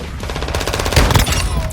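Lockwood 300 shotgun fire in a video game, a loud, close, rapid burst of overlapping shots with dense blasts throughout.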